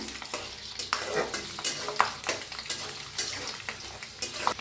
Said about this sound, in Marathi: यात शेंगदाणे, पत्ता हलवून भाजून घेऊया।